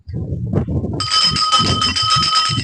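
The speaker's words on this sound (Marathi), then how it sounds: "एक घंटा वाजवायची आणि आपण पुढे जायचं" A bell at the clifftop Ganesh shrine in Matheran is struck once and rings on with a steady, bright, sustained tone, after a brief moment of voices and movement.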